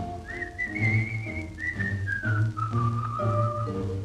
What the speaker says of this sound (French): Tandis que flotte son bouchon, il sifflote une chanson.